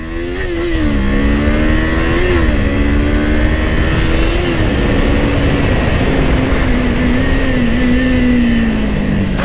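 A Kawasaki Ninja 500 motorcycle accelerating hard on a winding mountain road, its engine note rising loud and steady through several gear changes with brief dips between shifts, alone without talk.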